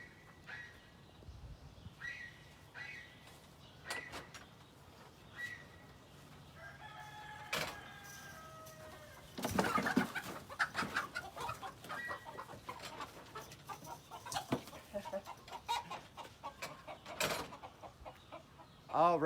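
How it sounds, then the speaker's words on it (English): Silkie and bantam chickens in a coop, scattered clucks and short calls coming and going, with a few louder bursts, fairly close, and a rooster crowing among them. "So this is a silky chicken"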